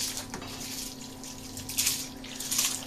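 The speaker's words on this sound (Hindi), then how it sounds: "पकते हुए पानी में चावल डालेंगे" Soaked rice being poured into boiling water in a pot while cooking masoor daal chawal, a close, steady watery splashing and bubbling that swells briefly near the end, with no talking.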